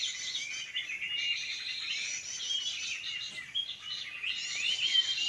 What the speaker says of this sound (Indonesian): Burung-burung langka juga datang